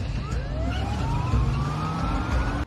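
A police car siren wails in rising and falling sweeps, loud and steady throughout over a constant rumble of vehicle noise.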